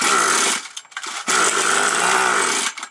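A 5800-class petrol chainsaw sputters as it runs with interruptions, a loud buzzing engine that cuts out briefly twice before catching again, never climbing to full revs.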